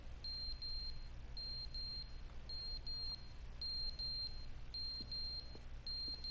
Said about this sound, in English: This probably was beeping. A CO2 detector?